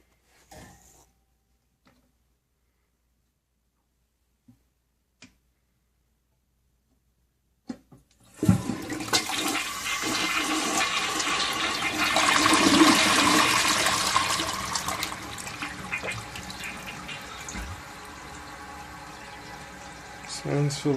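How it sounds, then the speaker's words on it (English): A Mansfield toilet bowl flushing leftover food in one big flush, a loud rushing, swirling surge of water that begins after several seconds of near silence with a few faint clicks, then fades gradually. "I'm going to flush it down the Mansfield."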